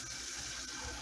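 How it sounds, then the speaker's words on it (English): Warm water running steadily from a kitchen tap, a continuous close hiss and splash with no pauses. "let's go ahead and just get a little bit of warm water"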